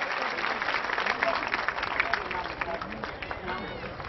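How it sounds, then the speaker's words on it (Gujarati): A hall audience claps steadily for students at a school celebration, a dense continuous patter of many hands with crowd murmur beneath, heard from within the room. "જોરદાર તાળીઓથી આ વિદ્યાર્થીઓને આપણે વધાવીએ."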